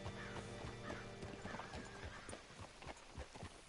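Horse hooves clip-clop at a steady walking rhythm alongside a whinny in the Western video game Red Dead Redemption 2, faint and continuous with no talking.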